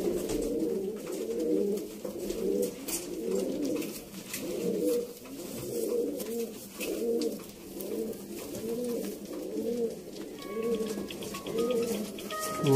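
Sialkoti and Rampuri kabootar pigeons coo in a steady repeating rhythm of low throaty calls, close and clear, with little else around them.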